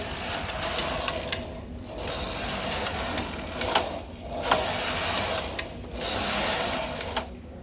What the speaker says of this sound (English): we're now going to move the carriage back over the knitting